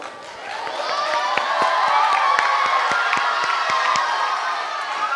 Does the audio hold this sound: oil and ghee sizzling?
no